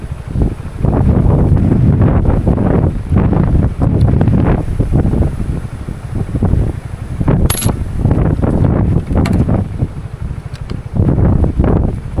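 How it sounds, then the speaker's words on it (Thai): Strong wind blows over open rice fields, buffeting the microphone in loud, roaring gusts that rise and fall throughout, with no talk heard over it. "แรงลมแรงนะ"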